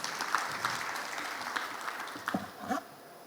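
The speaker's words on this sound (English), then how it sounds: "Please welcome him with a round of applause." A round of applause welcomes a government minister at a formal launch event, with moderate, fairly distant clapping from an audience and a few louder claps near the end.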